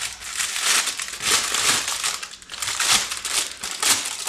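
Parchment paper is crumpled by hand up close, giving continuous crinkling and crackling in uneven waves for about four seconds with no talking.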